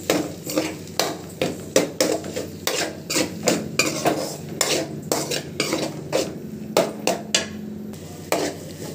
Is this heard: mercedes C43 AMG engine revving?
no